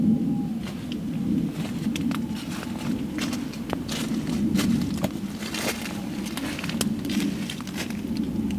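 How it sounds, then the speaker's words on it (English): Loud footsteps move right beside a camping tent at night, an irregular series of close crunching steps over a steady low rumble of background noise. "she was awakened by loud footsteps right next to her tent"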